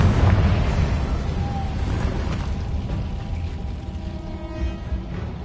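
Bombarda and Confringo spell explosions in the video game Hogwarts Legacy, a loud, heavy, rumbling blast that stays dense and fades slowly over several seconds.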